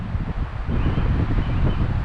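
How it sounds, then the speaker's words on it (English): Strong, blustery wind buffeting the microphone, a deep rumbling roar that surges and drops in gusts. "looks like it's going to be a windy one. It is blowing very gusty out here."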